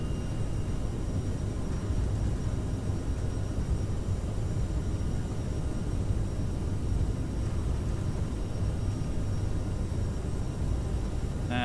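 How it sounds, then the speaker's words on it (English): Steady broadband jet engine roar of a CRJ7 regional jet during a heavy flex-temperature takeoff roll in Microsoft Flight Simulator, a continuous rumble and hiss with no talk over it. "we're doing a flex temperature takeoff"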